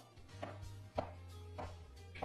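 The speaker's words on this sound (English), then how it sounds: "To cut the king oyster mushrooms, first slice it into slices and then cut it into strips." A knife slices king oyster mushrooms into strips on a cutting board, giving four soft, evenly spaced chops, close and quiet with no talk.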